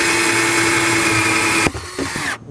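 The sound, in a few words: 1-inch hole saw drilling a hole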